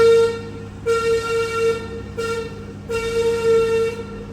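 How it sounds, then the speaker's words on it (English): A steady train whistle blows in long repeated blasts, loud and close, with short pauses between them and a constant rumble underneath. "they blow the whistle when they need it"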